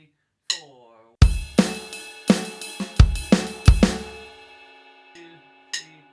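Funk drum kit groove, with kick drum, snare and ride cymbal hits in a syncopated pattern, punchy and close, played alone with a brief voice count at the start.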